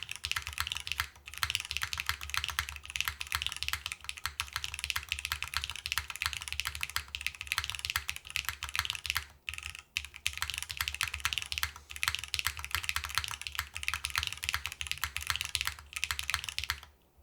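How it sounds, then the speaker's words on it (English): Dense, steady typing on an Etar87 top-mount mechanical keyboard, with continuous close clacking throughout, a hollow spacebar and moderate case resonance, with no talking. "Ooh, the spacebar is hitting."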